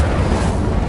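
A short, loud burst of roaring flame from the Incendio fire spell in Hogwarts Legacy, a dense low-heavy whoosh lasting under a second with no voices over it.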